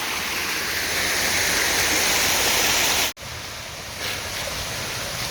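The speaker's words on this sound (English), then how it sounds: "looks like the waterfalls continue up there" A mountain creek waterfall rushes in a steady, loud broadband roar, briefly cut off by a short dropout before resuming just as evenly.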